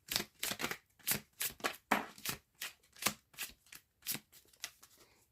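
A deck of tarot cards is shuffled in a steady rhythm of about a dozen crisp riffling bursts, each short and separate, close to the microphone and fairly quiet, with no talking.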